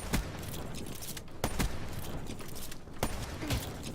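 Gunfire in the video game Call of Duty Black Ops 3, sharp isolated shots cracking at irregular intervals over a continuous background hum, close and fairly loud, with no talk.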